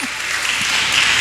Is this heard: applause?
yes